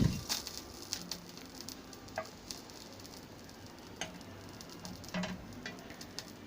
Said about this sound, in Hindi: अब जैसा कि आप देख रहे हैं ये मक्खन मेल्ट होना